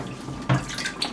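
Tap water runs steadily during home film development with caffenol, a broad continuous rush with a brief louder gush near the middle, close and alone.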